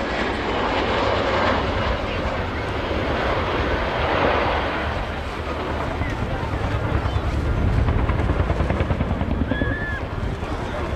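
A helicopter flies an aerobatic display at the RIAT 2023 airshow, a steady, loud engine and rotor roar that fills the whole stretch with broadband rumble and wind buffeting.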